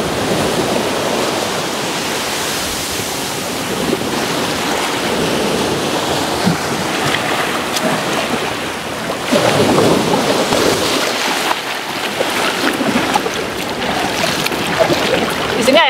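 Loud, continuous rushing surf at Padang Padang Beach, Bali, with waves crashing and churning close by, a dense roar that swells and falls, with some faint voices.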